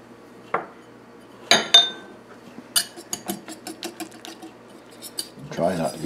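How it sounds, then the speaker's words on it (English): Eggs being whisked with flour and salt in a bowl, a rapid run of light metal clinks and taps against the dish after a couple of louder knocks, close and fairly quiet, ending with a brief voice. "whisk the eggs with the flour and salt"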